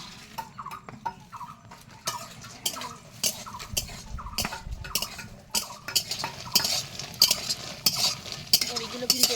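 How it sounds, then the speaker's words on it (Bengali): Homemade lentil dumplings (bori) fry in a pan. Irregular scrapes and clinks of a utensil against the pan sound over a faint sizzle, and the stirring grows busier and louder toward the end. "এবার কিন্তু এই বড়িগুলো ভেজে নেবে"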